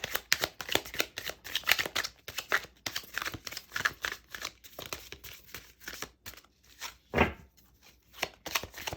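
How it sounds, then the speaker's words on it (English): Tarot cards shuffled and drawn by hand, a run of crisp riffling and slapping bursts in quick irregular rhythm, close and fairly soft, with no talking. "Let's pull another card for that."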